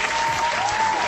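Applause sound effect, a short burst of dense crowd clapping at steady loudness, with a faint tone running through it.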